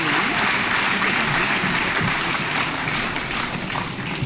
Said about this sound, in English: One more round of applause for her, please.